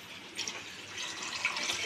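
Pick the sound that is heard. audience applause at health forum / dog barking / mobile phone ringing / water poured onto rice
water poured onto rice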